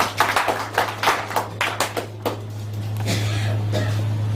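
An audience claps at a live event, a run of sharp, fairly loud hand claps in the first half that fades into a steady low murmur.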